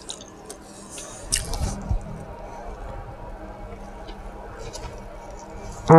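Loud, close chewing and wet lip smacking while someone eats a chicken quesadilla, with scattered squishy bites and a louder burst near the start, over a quiet room and a sharp sound at the very end.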